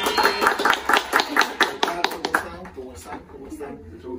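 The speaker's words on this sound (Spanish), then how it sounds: "me gustaría dar un fuerte aplauso para el profesor Jack" Applause for Professor Jack on Teachers' Day: a burst of hand clapping from a gathered group, rhythmic and fairly close, fading out after a couple of seconds.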